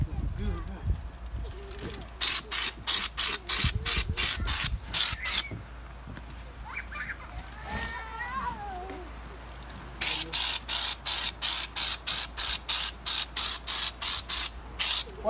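Raptor bedliner paint sprayed in rapid rhythmic bursts, a run of short loud hissing pulses, a pause with people talking and chirpy sounds nearby, then another steady series of spray bursts.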